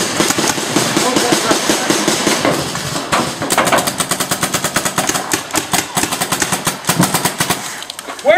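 Paintball guns firing during an outdoor paintball game, rapid strings of sharp pops, dense bursts in the second half, with faint voices underneath.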